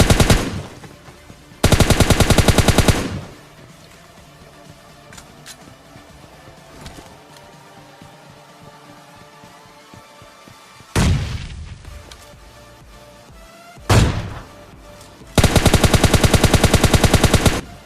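Automatic gunfire in the mobile game PUBG Mobile Lite: loud, rapid bursts open, interrupt the middle, and close the stretch, with quieter scattered shots and game sounds between them.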